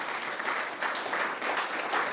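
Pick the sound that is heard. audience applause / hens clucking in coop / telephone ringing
audience applause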